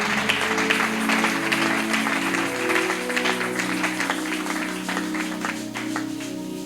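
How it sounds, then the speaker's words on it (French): A church congregation claps and cheers for the Lord in a dense, steady wash of applause that carries on for the whole stretch over a low sustained musical tone, fading slightly toward the end. "Acclamez très fort le Seigneur."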